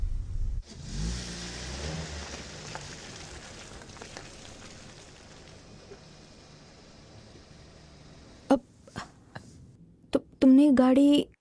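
A car drives along a rough road with a rising engine hum and tire rumble that fades as it slows and stops partway along, then a few sharp knocks and a voice speaking at the end.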